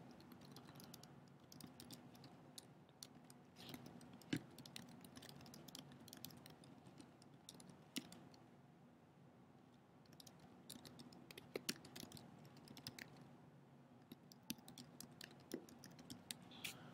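Typing an email address on a computer keyboard, heard as faint, scattered key clicks at an irregular pace over a quiet room background, with no talking.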